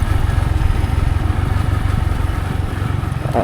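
A light dirt bike engine running close by in the Lama hills, a loud rapid pulsing putter that stays steady and uninterrupted.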